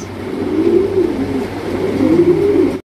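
A breeding pair of large pigeons at a market coos in a continuous low, throaty warble, close and fairly loud, cutting off abruptly at the end.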